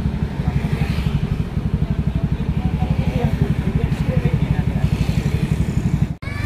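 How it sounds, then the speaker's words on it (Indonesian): A Yamaha Mio scooter fitted with an F2Racing standard exhaust idles with a steady, even putter from close by. The engine runs alone, and a brief click sounds near the end. "Yamaha Mio, suaranya mirip Vario. Nih, kita dengerin."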